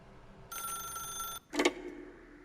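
A telephone rings once inside The Stanley Parable video game, a sustained electronic bell tone lasting about a second, then a brief clattering pickup sound follows. No one speaks.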